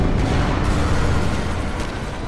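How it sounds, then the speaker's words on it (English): Dramatized explosions tearing through a laboratory's medical section, heard as a continuous loud, dense rumble and roar with no distinct gaps, alone without talk. "The first explosions tore open the entire medical section."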